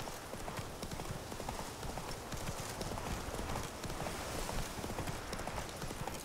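Horse hooves in The Witcher 3 video game pound in a steady galloping clip-clop over continuous rushing noise, with faint voices now and then under the hoofbeats.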